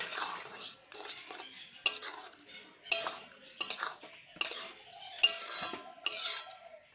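Spoon stirring ghee into palak paneer in a pan, repeated scraping and clinking strokes at a steady rhythm, close and moderately loud, no talking.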